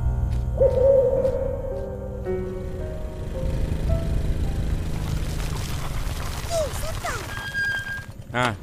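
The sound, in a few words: owl hooting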